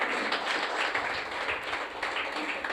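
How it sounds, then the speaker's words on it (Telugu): A church congregation applauds during a sermon, a steady dense wash of many hands clapping at once that holds at an even level throughout with no pauses. "చప్పట్లు కొట్టాలి ఇప్పుడు అందరూ."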